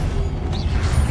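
A brief Expelliarmus disarming charm goes off in a Hogwarts Legacy battle, a loud whooshing burst with a short rising swish over a steady low rumble of game sound.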